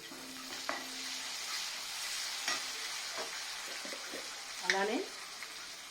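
Onions with curry leaves frying in oil for chicken biryani, a soft steady sizzle with scattered stirring scrapes and utensil clinks, fairly quiet and close.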